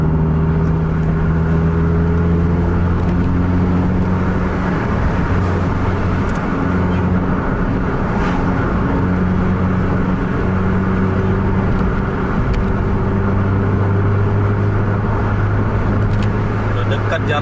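Two Scania buses, a 1626 and a K410, race along a straight road, heard from inside one coach as a steady low diesel drone with sustained engine harmonics throughout, people talking over it.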